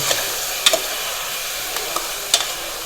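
Spices and oil sizzle in a pan for a tempering, a steady hissing fry broken by a few sharp clacks of a spoon stirring against the pan, close and fairly loud.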